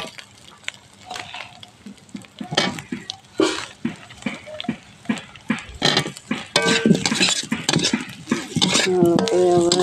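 Potatoes go into a pan of well-fried masala with the oil separated, followed by repeated clattering spoon-and-pan scrapes and stirring knocks, close and irregular, with a voice speaking toward the end.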